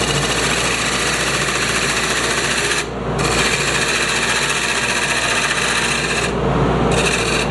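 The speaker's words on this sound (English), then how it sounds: "So now I'm going to start angling the chisel a little bit to plunge in." A chisel cuts the inside diameter of a bangle on a lathe, giving a steady, loud scraping and rasping hum with two brief dips in the cutting, under a constant motor drone.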